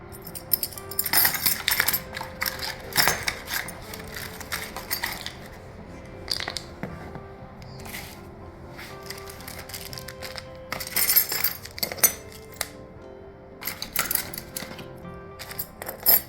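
Metal keys for an Ultraloq Latch 5 wifi smart lock clink and jangle in scattered bursts during unboxing, mixed with light rattling of packaging and hardware, close and fairly quiet.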